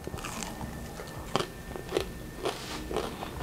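Crunchy bites and chewing of a crispy air-fried rice fritter, heard close up as a series of short crackling crunches spaced about half a second apart.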